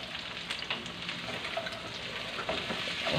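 String beans and mushrooms fry in hot oil for adobo, a dense crackling sizzle with soft scraping of stirring, close and continuous, no voices.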